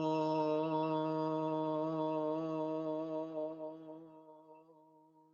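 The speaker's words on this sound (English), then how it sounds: "So I like to chant Om, and it might sound like this." A single person chants a long, sustained Om, one steady, rich-toned voiced note that holds evenly before gradually fading and trailing off toward the end, close and solo with no other sounds.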